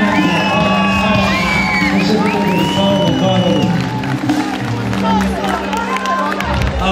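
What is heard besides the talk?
audience applause and cheering at a celebration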